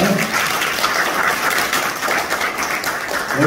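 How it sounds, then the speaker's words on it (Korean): Audience applause at a Korean ceremony in Gwangju for a low-birthrate and aging policy committee launch, a steady dense wash of clapping throughout, loud and continuous with no pauses. "우리 정수훈 형 우리 수석부 회장님 역시 깊이 감사드리고 역시 뜨거운 박수"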